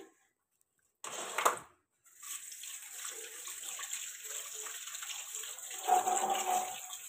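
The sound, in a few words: washing catla fish pieces with water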